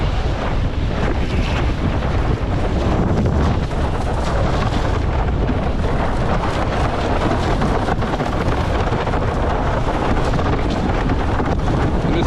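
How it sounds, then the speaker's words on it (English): Strong wind roars and buffets the microphone while windsurfing on open water in light-wind conditions, a constant loud rush with sea and board noise beneath and no speech. "Bit of wind here"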